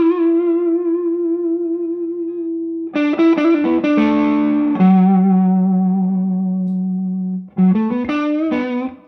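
Electric guitar through a cheap $30 overdrive pedal, a Nobels ODR-1-style drive: a sustained gritty note, then strummed distorted chords and a long held low note, closing with another burst of chords, loud and alone.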